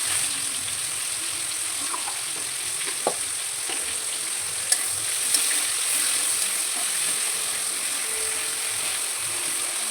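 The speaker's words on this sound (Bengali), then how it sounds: "এইভাবেই সম্পূর্ণ সবজিগুলো ভেজে নিচ্ছি" Mixed vegetables fry in ghee in a pan, giving a continuous even sizzle with a few sharp clicks of stirring, close and alone without speech.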